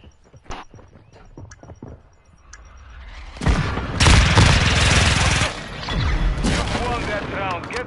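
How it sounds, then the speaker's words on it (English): Friendly airstrike on a PS4 shooter battlefield, quiet scattered shots giving way to a long roaring barrage of loud booming explosions and rapid gunfire that stays dense to the end. "Friendly airstrike on the way."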